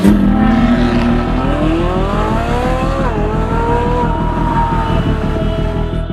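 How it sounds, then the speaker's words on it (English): A supercar driving hard on a closed circuit track, its loud engine note sweeping upward through the gears in close, continuous revving, with a faint tire squeal and no talking. "Driving a supercar on a closed circuit track."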